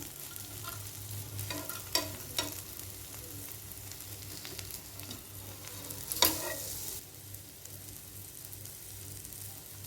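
Masala bread toast with grated carrot fries in a pan with a soft, continuous sizzle, a few sharper spatula scrapes and taps as it is turned, moderately quiet throughout.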